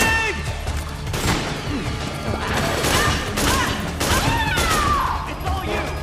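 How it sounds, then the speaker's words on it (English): Explosions and heavy gunfire fill a Metal Gear Solid 4 battle, with a grenade blast among repeated loud, sharp bursts over a constant roar of combat. Shouting voices mix in. "Grenade!"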